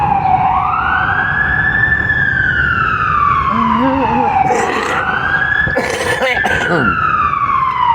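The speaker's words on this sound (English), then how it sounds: "The ambulance is coming for me." An ambulance siren wails, sweeping up and down continuously, loud and close, with a brief burst of voices and rustling noise partway through.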